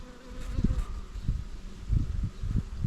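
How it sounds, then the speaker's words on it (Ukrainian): A small swarm of honeybees buzzes close by as it enters a hive, a soft continuous drone with repeated louder passes of individual bees, with no voices. "Це вони тільки-тільки увійшли. Це ройочок."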